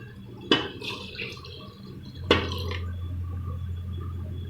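Water is poured into a pot of black chickpea curry being cooked to go with rotis, with two sharp splashy onsets followed by a steady liquid fill and a low hum, close and fairly quiet with no talk.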